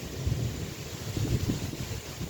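Wind gusting during a thunderstorm, a steady rough roar with low buffeting rumble that swells and eases throughout, close to the microphone and with no voices.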